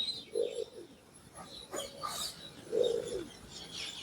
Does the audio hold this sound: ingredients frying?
no